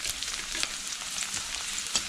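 Garlic cloves, cut lengthwise, frying in oil over a medium flame, giving a steady close sizzle with faint crackles and occasional stirring scrapes, no voices.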